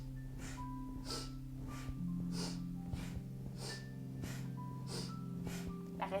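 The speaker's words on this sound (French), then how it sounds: "Inspire, expire." Steady, rhythmic breaths drawn in and pushed out during a beginner yoga session for shoulders and arms, repeating about every second over a constant low background hum, close and moderately soft.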